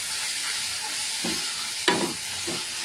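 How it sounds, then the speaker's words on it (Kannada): Fresh organic spinach (palak) fries in a pan for palak rice, a steady soft sizzle and hiss with a few scraping stirs of the spatula, including one sharper knock. "ಹಸಿ ವಾಸನೆ ಹೋಗೋ ತನಕ ಈ ಪಾಲಕ್ ಸೊಪ್ಪನ್ನ ಹುರ್ಕೋಬೇಕು"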